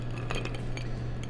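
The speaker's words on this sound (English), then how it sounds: "And then we're literally gonna stir this around a little bit." Ice cubes in an Old Fashioned cocktail are stirred in a glass, giving soft, close clinks and rattles over a low steady hum.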